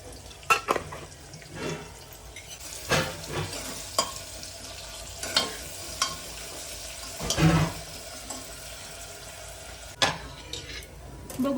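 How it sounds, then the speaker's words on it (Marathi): Chopped onion sautéing in a pan, a quiet sizzle broken by irregular stirring scrapes and clinks of utensil on metal, fairly close and faint overall. "कांदा आता छान गोल्डन पिंक परतून झालाय आपला."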